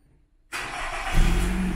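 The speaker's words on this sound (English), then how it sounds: "And the car starts." A Nissan car's engine cranks and catches via a Viper remote start after a moment of silence, then settles into a steady, close idle with a brief rise in revs.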